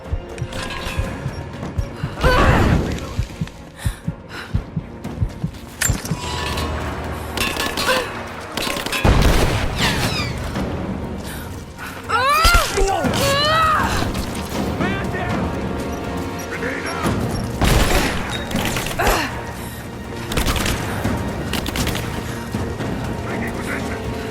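Gunfire from the video game Rise of the Tomb Raider: loud, dense bursts of shots and crashing impacts across a combat scene, with shouted soldier voices mixed in throughout.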